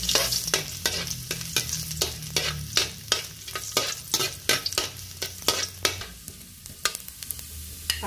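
Ginger sautés in a hot pan while cooking tocino-style milkfish, a busy sizzle broken by quick, regular spatula strokes scraping the pan, close and fairly loud, with nobody speaking.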